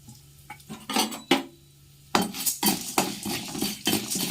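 Urad dal and asafoetida roast in a pan for thuthuvalai thuvayal, heard as a run of close metallic spoon scrapes and clanks against the pan with a light dry crackle, irregular and fairly loud.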